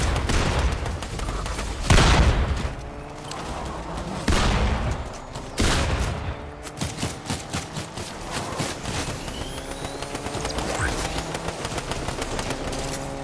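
Sustained automatic gunfire and repeated shots in a Fortnite match, loud and continuous with some heavier bangs, weapon sounds layered throughout while players talk faintly in the background.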